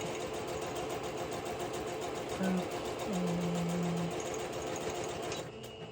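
A sewing machine stitches through a layered paper ephemera pocket piece, running as a steady continuous mechanical hum with a rapid needle rhythm throughout, stopping near the end.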